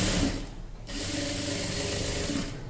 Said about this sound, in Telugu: ఇలా వేసుకొని ఒక వరుస ఇలా కుట్టు వేసేసుకుంటే మనకు బయటకు లైనింగ్ అనేది కనిపించకుండా ఉంటుంది